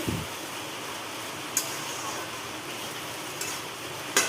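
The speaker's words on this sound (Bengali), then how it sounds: "এই যে এখন চাল আর ডাল ভাজা করছি" Rice and lentils frying in a pan for khichuri give off a steady, even sizzle, with a few brief scraping stirs.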